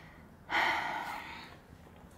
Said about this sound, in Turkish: Derin nefes al. Sakin nefes ver.